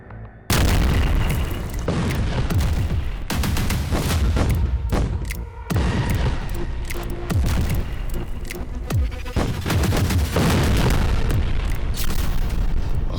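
Bombs exploding during the Israel-Hamas war in Gaza: a loud, continuous barrage of heavy booms and blasts, one after another with almost no pause, rumbling deep throughout.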